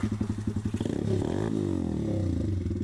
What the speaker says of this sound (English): It's just like gurgling every now and then.